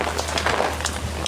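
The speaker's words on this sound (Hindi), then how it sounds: "बहुत तेज बारिश है" Heavy rain falls in a steady, dense hiss close by, with a low hum running underneath and no voices.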